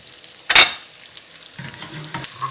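Chopped onions hit hot oil with cumin seeds for vegan moong dal, giving one loud burst of sizzling and a stir that settles into a quiet, steady fry close by.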